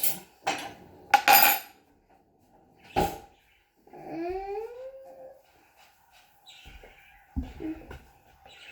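A spoon scrapes and clinks against a bowl while dahi is mixed, several sharp metallic taps close by, with a child's high sung or hummed notes in between.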